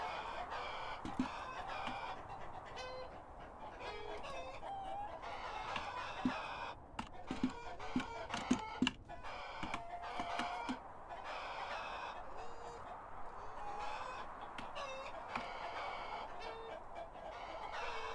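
Many chickens cluck in a simulated game battle against elephants, a busy continuous flock chatter with scattered sharp peaks and impact-like hits throughout.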